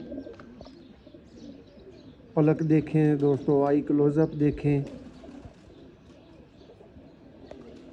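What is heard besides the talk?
pigeons cooing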